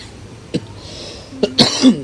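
A single short cough comes up close, followed by a rougher throat-clearing burst and a brief hum in a quiet room, with no talking.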